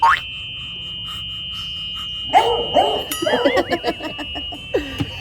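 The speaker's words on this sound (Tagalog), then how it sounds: "What's the sound of the dog?" A dog gives several short yips and whimpering barks in quick succession near the end, close and fairly loud, after a mostly quiet stretch with some sound-effect tones; voices are heard faintly.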